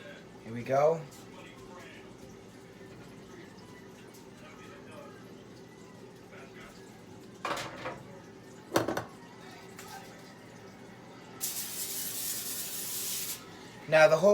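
A short burst of hissing baking spray near the end, following several scraping and rustling handling noises against a quiet room background.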